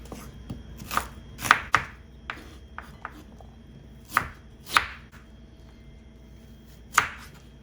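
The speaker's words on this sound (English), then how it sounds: "I'm going to chop this up" A knife chops cooked meat for a chicken stew on a board in a few sharp, irregular strikes, with quiet pauses between them.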